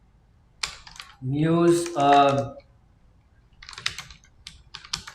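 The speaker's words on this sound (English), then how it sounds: "let me type" Keys clatter on a computer keyboard in quick, light bursts before and after a brief spoken word, with near silence in between.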